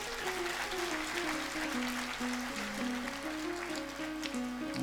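Audience at a bhakti satsang giving loud, continuous applause, dense clapping throughout with a tonal melody sounding underneath.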